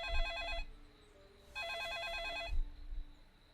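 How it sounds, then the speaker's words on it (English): Electronic trill of a telephone ringing in a video game, in two bursts separated by a short pause, loud and clear against a low background rumble. "Oh shit, the phone's going off."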